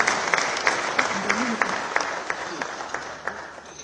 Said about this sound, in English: A round of applause for the Deputy Minister.